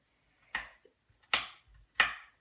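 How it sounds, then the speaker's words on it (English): Knife chopping onions on a board for Indonesian rice: three crisp, close chops spaced about 0.7 seconds apart, each a sharp impact with a short tail, heard alone with no talking. "we're just going to continue cutting the onions here"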